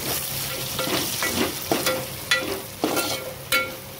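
Red masala, coriander powder and turmeric sautéing in oil for sambar over lowered heat, a soft sizzle punctuated by regular spatula scrapes and knocks against the pot, close and unspoken.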